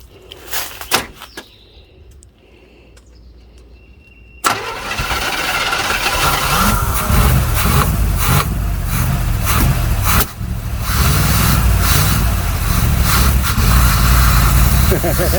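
A 1966 GMC truck engine cranks and fires after a few quiet clicks, then settles into a loud, rough, rumbling idle close by, with people talking over it.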